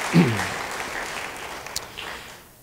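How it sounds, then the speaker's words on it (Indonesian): Applause from an audience, a brief burst of clapping that quickly thins out into a sustained soft patter before fading away. "Yang mau beri tepuk tangan bagi dia."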